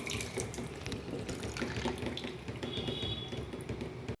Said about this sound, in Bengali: বেসিনটা ধুয়ে নিচ্ছি